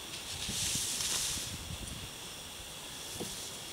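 Gusty wind blows across an outdoor campsite where wild hog is being cooked over a campfire, a steady broad rushing hiss that swells in the first second and a half, then settles, with faint rustling beneath.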